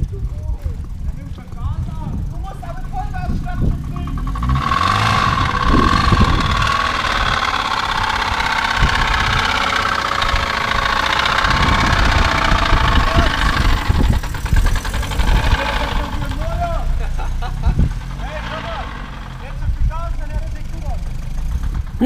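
A BMW E36 saloon with the M43 four-cylinder engine idles loudly and steadily up close, the motor running rough with a knocking, uneven rumble; voices talk over it.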